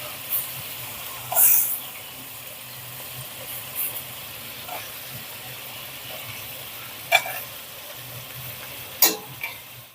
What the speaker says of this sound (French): Maintenant, on va mettre la viande à revenir et on va la faire dorer sur toutes les faces.